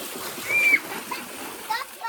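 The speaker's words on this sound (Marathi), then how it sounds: "पोरांचं पाणी खेळायचं काम चालू आहे" Children splash and play in water pouring from a roof gutter on a hot summer day, a soft continuous spatter with brief louder splashes, while kids chatter in the background.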